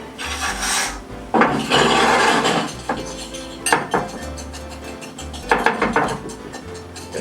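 Brown sugar and pepper seasoning are stirred in a bowl, giving gritty scraping and rasping strokes in bursts with short pauses, with light clinks of utensil against the dish and no talk.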